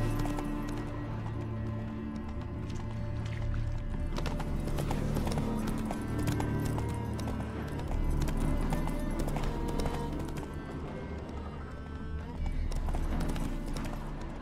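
Hooves of the horse Roach clip-clop steadily on a road in The Witcher 3, with occasional snorts and whinnies, the rhythmic beats carrying on under game music and a voice speaking at times.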